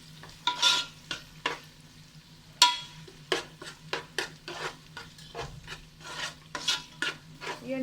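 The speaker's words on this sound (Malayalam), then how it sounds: "ബീൻസ് ആദ്യം ചേർത്തൊന്ന് വഴറ്റിയെടുക്കാം." Chopped beans are stirred in hot oil in a pan, with repeated sharp scraping strokes of a spoon against the metal over a soft, steady sizzle, close and uneven in rhythm.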